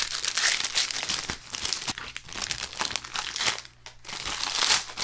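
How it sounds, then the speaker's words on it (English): Plastic wrappers on old trading card packs crinkle and tear up close, in irregular bursts of crackling rustle throughout, with no talking. "It's my new thing on my channel, just unboxing buttloads of old cards."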